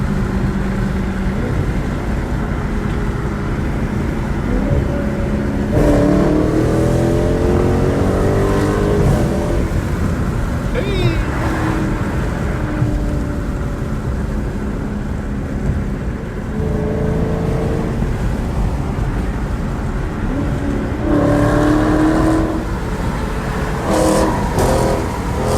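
Dodge SRT 392 Challenger V8 engine drones steadily at highway speed, with several rising revs and downshift surges over continuous road and wind noise.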